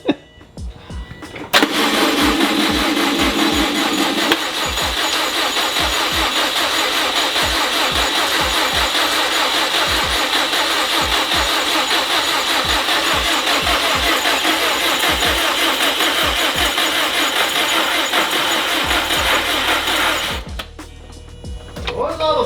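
A Subaru WRX STI engine cranks and fires on first start, then runs at a loud, steady idle with a rapid ticking knock while oil pressure builds, before cutting off near the end; voices briefly talk at the start.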